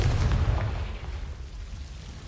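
A Confringo spell explosion in the Hogwarts video game, a single booming blast up front that rumbles and decays over a couple of seconds.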